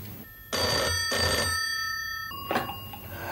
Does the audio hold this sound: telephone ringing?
yes